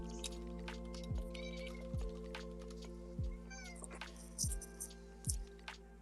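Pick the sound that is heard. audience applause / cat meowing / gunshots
cat meowing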